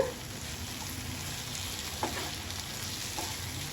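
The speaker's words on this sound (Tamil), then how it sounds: "ஸ்டவ்வை வந்து நல்லா ஸ்பீடாக வச்சு ஒரு கிண்டி கிண்டி விட்டு ஸ்டவ் ஆஃப் பண்ணிடலாங்க" Brinjal pieces fry on a high flame while being stirred, giving a soft, steady sizzle with a few faint scraping clicks of the spoon in the pan.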